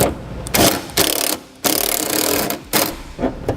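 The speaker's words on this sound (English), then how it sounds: "Now we'll tighten the 8mm screws." 8mm screws are tightened on a crossbar-style base plate on a 2015 Ford Fiesta, a tool giving several short bursts of ratcheting, whirring mechanical noise with brief gaps between them, close and loud.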